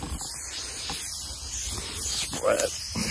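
An aerosol can of AeroGuard insect repellent sprayed at a beach campsite in Australia, a continuous close hiss running throughout with faint speech-like sounds mixed in.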